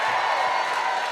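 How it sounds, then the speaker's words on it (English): Live audience at a comedy conversation show clapping for the sponsors, a continuous wash of applause and crowd noise, steady and moderately loud throughout the brief moment. "let's give them a big round of applause"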